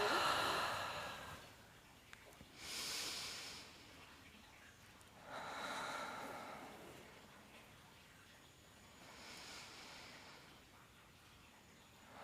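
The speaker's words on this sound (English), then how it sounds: "Inhale long and exhale, release" Slow, soft exhales during gentle postpartum yoga breathing, three or four long breaths rising and fading at a quiet, close level with no talking.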